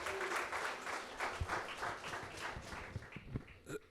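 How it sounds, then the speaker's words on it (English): Audience at a St. Louis fathers' event applauds the partner organizations, steady moderately distant clapping from a crowd that tapers off near the end, with a few louder individual claps. "Give a round of applause to our partners"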